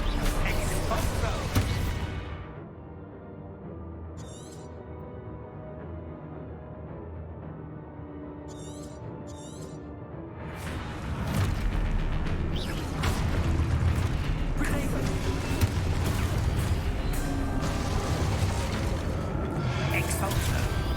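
Spell blasts from Expulso, an explosion spell in the Hogwarts Legacy video game, boom out amid loud game combat, with a quieter stretch of lingering rumble between bursts before the fighting swells again.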